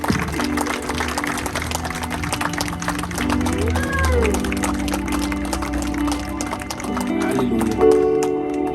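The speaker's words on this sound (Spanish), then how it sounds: "Dele un aplauso a nuestro Señor." A church congregation claps in applause during a service, making a sustained patter of many hands over organ-like music and a speaking voice.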